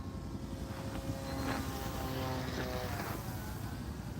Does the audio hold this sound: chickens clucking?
no